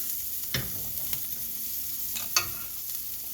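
A vegan chickpea burger fries in a pan with a soft, steady sizzle, broken by two brief scraping stirs.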